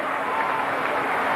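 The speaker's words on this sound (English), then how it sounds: "Now the crowd, you can hear the sound swell" A baseball crowd at an Astros home game against the Mets in 1997 roars steadily, a broad, sustained cheering swell heard from a distance with no clear voices on top.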